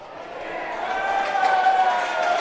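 Australian football match crowd swelling into a loud, sustained roar of cheering across a packed stadium, rising steadily with no clear break.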